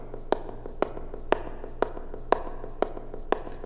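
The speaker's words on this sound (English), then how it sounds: "Then I added tambourine on eighth notes like the heels." Bright jingly tambourine hits on eighth notes land in a steady even pulse, each a crisp metallic shimmer, close and clear over a faint low hum.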